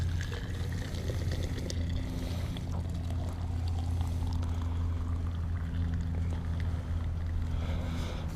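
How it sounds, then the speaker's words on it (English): Boiling water pouring from a tipped-up Kelly Kettle outdoors, a continuous splashing gush running steadily for several seconds over a low background rumble. "We just tip it up."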